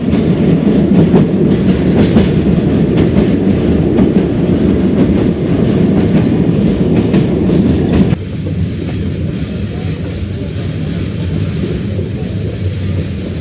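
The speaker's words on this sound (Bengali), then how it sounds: "আর অল্প কিছুক্ষণের মধ্যে ট্রেন যথারীতি ছুটলো তার গন্তব্য সিলেটের দিকে" A passenger train bound for Sylhet runs at speed, a loud continuous rumble and rattle of wheels heard from inside, dropping slightly in level partway through.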